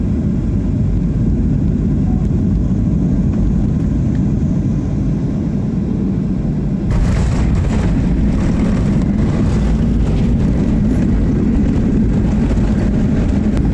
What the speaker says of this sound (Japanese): さあ間もなく紋別空港に着陸です。